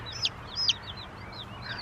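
Several baby chicks peep in short, high chirps, four or five spaced calls close by in a quiet room.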